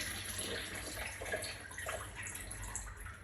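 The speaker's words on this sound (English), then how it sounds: "just a little bit more water out." Water running and trickling as coolant drains from the radiator of a Ferguson FE35 vintage tractor during restoration, a steady faint splashing flow close by with no talk.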